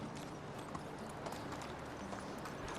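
Horse hooves clip-clop steadily in the medieval village-life game Medieval Dynasty. The footfalls keep an even rhythm the whole time, set against a constant wash of ambient game noise.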